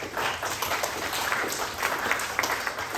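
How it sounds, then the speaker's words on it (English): Steady audience applause fills a lecture hall after a talk on autism in the workforce, a dense patter of hand claps at moderate distance that holds evenly throughout. "Give this person a round of applause"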